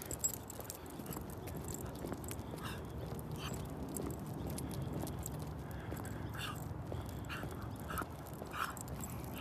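A dog outdoors munches on dirt and grass, making faint, irregular chewing and snuffling sounds over a steady low background hiss, close but quiet, with no voices.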